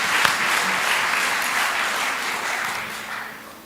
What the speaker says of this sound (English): Can we just give Carrie a round of applause for all those words?